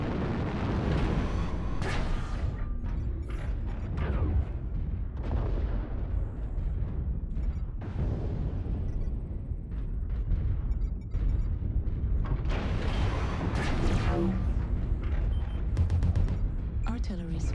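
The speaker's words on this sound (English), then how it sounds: "Artillery strike." Artillery strike in MechWarrior Online: a series of heavy, booming explosions and blasts rolling one after another, loud and close, with mech cockpit noise and speech mixed in.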